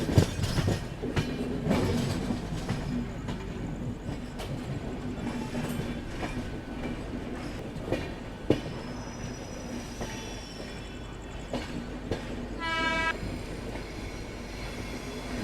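Mangla Lakshadweep Express hauled by a WAP-5 electric locomotive rolls along with steady rumbling, rhythmic clicks of wheels over rail joints and scattered squeals, a brief higher-pitched horn-like tone near the end, heard from on board.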